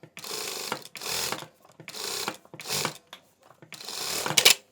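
A sewing machine stitches a seam on a homemade hoodie in five bursts of steady, fast needle chatter, separated by short pauses. The stitching is close and clear, with no voices.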